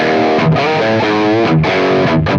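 Electric guitar through high-gain distortion plays heavy chords in a loud, saturated burst with brief gaps between chord changes, alone without talk.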